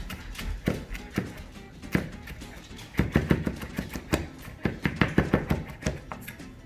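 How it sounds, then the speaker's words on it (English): A knife chops fresh cilantro on a cutting board, a close run of quick, uneven thuds and taps that speeds into dense bursts, with no talking. "now we're gonna go ahead and chop the cilantro"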